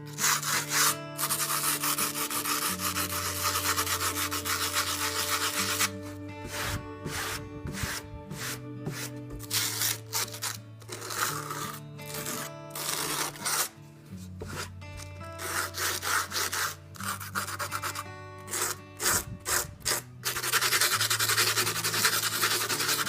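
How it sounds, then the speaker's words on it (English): Sandpaper is rubbed over the grout of a DIY brick wall in rhythmic back-and-forth rasping strokes, close and fairly quiet, pausing now and then over a steady tonal background. "That's when you can bring in some sandpaper, just anything with a rough grit, and lightly sand it down."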